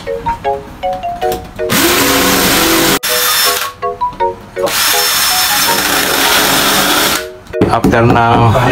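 A power drill bores into a wall while fitting a sliding door, running in loud sustained bursts with brief pauses between them, and people talk between the bursts.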